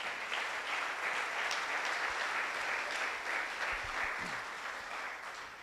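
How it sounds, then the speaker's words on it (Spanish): A church congregation applauds together, a steady wash of many hands clapping at moderate volume that holds throughout, with a faint voice surfacing briefly near the end. "¿Cuánto le dan ese aplauso al Señor?"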